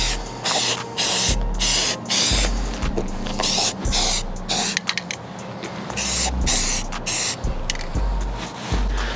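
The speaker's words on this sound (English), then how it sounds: "While in the process of spraying, don't forget to shake your spray paint multiple times." A rattle can of spray paint is sprayed onto a rifle. Loud, close hissing bursts repeat in quick, uneven pulses with short gaps between them.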